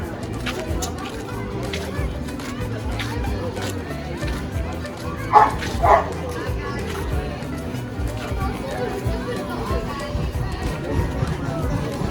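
A dog outdoors near the sea gives two quick, loud barks midway through, under people talking and general background noise.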